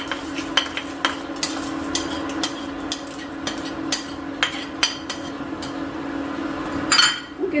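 Cashews, peanuts, urad dal and chana dal, already fried, being stirred in a pan with a spoon, a steady run of close scraping clinks and taps over a faint sizzle, with no talk.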